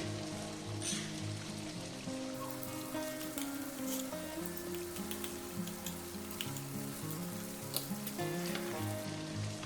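Cashew paste fries in a wok over a low flame, a quiet, steady sizzle and crackle running throughout, with faint tonal sounds beneath it.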